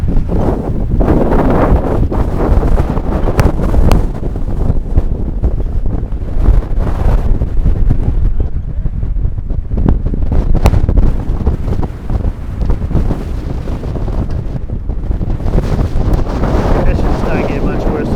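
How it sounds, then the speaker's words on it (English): Extreme wind buffets the microphone at a race track in Invercargill, a loud, constant rushing roar with gusting surges and rumbles throughout. "Conditions don't get much worse than this. This is really, really extreme wind now."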